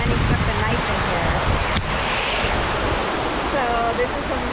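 A river rushing steadily beside an outdoor jerk chicken cooking spot in Jamaica, a loud continuous watery roar with wind buffeting the microphone throughout.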